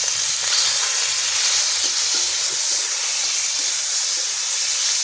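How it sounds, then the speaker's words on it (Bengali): Prawns fry in hot oil in a wok for a taro-leaf prawn dish, giving a loud, steady, close sizzle and hiss with no talk. "তেলটা গরম হয়ে গেছে, এবার আমি চিংড়ি মাছগুলো কড়াইতে দিয়ে দিলাম।"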